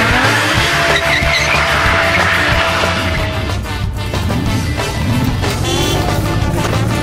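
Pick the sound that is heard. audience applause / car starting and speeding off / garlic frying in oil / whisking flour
car starting and speeding off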